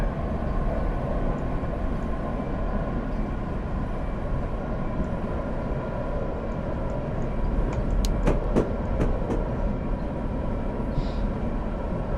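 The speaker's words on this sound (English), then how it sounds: "slowly easing this passenger train into Santa Ana Station" A passenger train in Train Simulator eases slowly into Santa Ana Station, giving off a steady, loud rumble of wheels and engine with a few brief sharp squeals or clanks near the end, and no talk.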